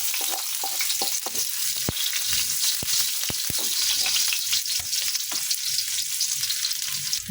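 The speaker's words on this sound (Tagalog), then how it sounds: "Gisahin na natin yung ating bawang." Garlic and onion sautéing in a pan, a steady close sizzle and crackle with scattered sharp pops and occasional stirring scrapes, with no talking.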